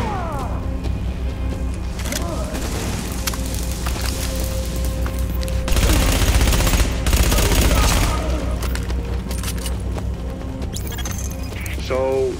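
Bursts of automatic gunfire and booming shots fill a firefight in The Division's subway morgue, dense and loud, with game voices talking over the shooting.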